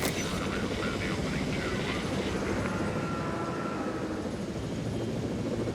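Player-flown helicopter in Jurassic World Evolution, a dense steady rotor and engine roar filling the whole stretch at even loudness, with a voice talking under it.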